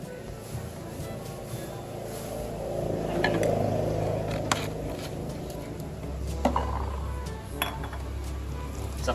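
Chapaghetti noodles being stirred with soy sauce in a dish, with soft clinks and scrapes of utensils against the bowl, steady close handling sounds and a low background rumble.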